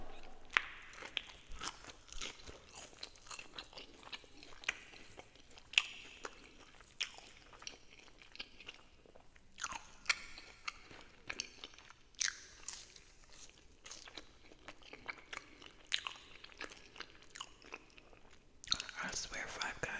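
A Five Guys bacon cheeseburger with extra cheese, lettuce, tomato, pickles and condiments is eaten with fries, producing close, quiet bites, crunches and chewing in an irregular rhythm, with faint whispering between mouthfuls.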